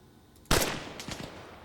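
Gunfire in the military shooter Arma Reforger, with one sharp loud shot followed by a few fainter cracks and a rolling echo, with no talk over it.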